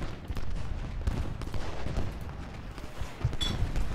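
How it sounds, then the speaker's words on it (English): Artillery and massed gunfire from the Ultimate General: Gettysburg battle game, with Civil War cannons firing canister shot. Dense, continuous low rumble of cannon and musket volleys is broken by several sharper blasts, loud and sustained throughout. "We're going to get to canister shot. It's time for canister."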